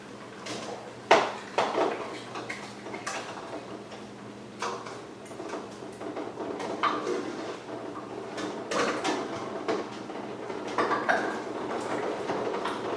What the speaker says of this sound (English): you can hear it bouncing around in there, but we're actually sterilizing the jar